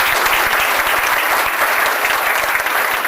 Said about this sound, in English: Give all of those people a round of applause.